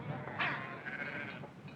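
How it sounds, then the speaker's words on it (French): Sheep bleating in a flock being driven forward, a couple of wavering calls close by over a rough outdoor background, with no talk over them. "Allons, faites-moi avancer ces moutons."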